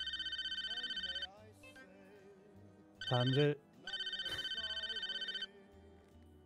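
Phone ringtone in a video game, a loud electronic trill repeating in bursts that stop and start again, with a brief spoken word cutting in between rings.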